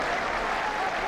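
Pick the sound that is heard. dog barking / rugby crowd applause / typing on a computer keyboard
rugby crowd applause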